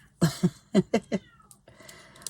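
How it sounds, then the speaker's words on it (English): A cat meows close by in a quick series of short, loud calls, followed by a quieter stretch of faint background noise. "I think it's cat's dinner time again."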